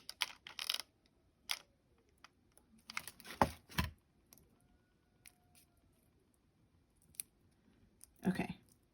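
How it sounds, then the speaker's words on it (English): Scissors snip through ribbon while a bow is made, a few sharp close cuts spaced out with quiet gaps between them, and a louder rustle and crunch near the end. "And then I just snip close to where the edges meet,"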